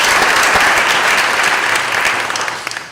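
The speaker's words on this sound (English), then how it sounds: "Let's give him a nice round of applause." Loud, sustained applause from an audience at a high school board of education meeting, honoring a student; dense steady clapping for about three seconds, tapering slightly at the end.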